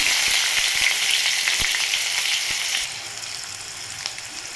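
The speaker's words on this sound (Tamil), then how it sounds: "எண்ணெய் நல்லா காஞ்சிருச்சுங்க வெங்காயம் கடுகு உளுந்தம்பருப்பு வரமிளகாய் இதை சேர்த்துக்கலாம்" Onion, mustard seeds, urad dal and dried red chili hit hot oil with a loud, bright sizzle and a few crackles that drop to a quieter, steady fry partway through, with no talk.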